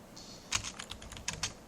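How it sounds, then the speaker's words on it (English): Someone types on a computer keyboard while coding, a quiet background hum broken by a few sharp key clicks and short clattering bursts, close but soft. "I'm sorry for my keyboard"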